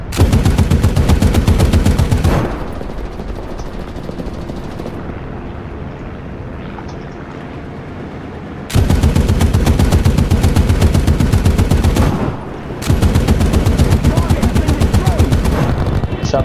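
Rapid machine-gun fire in a video game with aircraft roars in long, loud, dense bursts that shoot down an enemy, separated by a few seconds of quieter engine drone.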